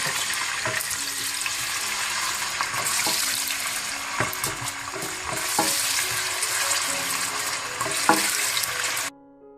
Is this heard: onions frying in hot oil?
yes